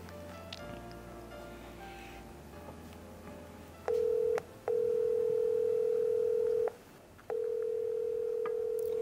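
An outgoing phone call's ringback tone sounds in long steady beeps separated by short gaps, after a few seconds of quiet room noise.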